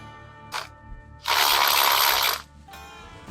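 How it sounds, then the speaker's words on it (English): A ratchet works on bolts of a Harley Dyna motorcycle, with a short click, then a sustained loud ratcheting burst about a second long, and another brief clicking run close by. "Now we'll be able to unbolt these and pull all these wires up through"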